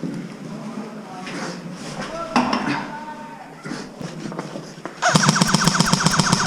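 Homemade airsoft gun built from trash, run on a small 2S LiPo battery in cold weather, fires a loud rapid burst of shots near the end, after a stretch of outdoor talk and rustling.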